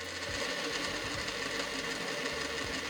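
A Vevor JK-9803 industrial sewing machine winds a bobbin with a steady mechanical whir and faint rhythmic ticking, fairly quiet and close, with no talking.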